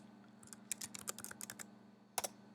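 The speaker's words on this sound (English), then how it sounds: "So I'm going to type that in." Quick bursts of clicking keystrokes on a computer keyboard, a rapid run of taps followed by a short pause and a final pair of clicks, close and clear over a faint background hum.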